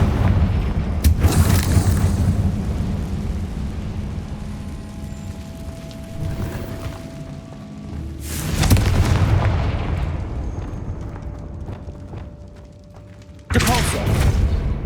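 Explosive Confringo spell blasts in Hogwarts Legacy burst out in three loud, broad booms, one early, one in the middle and one near the end, each followed by a fading rumble over steady game background noise.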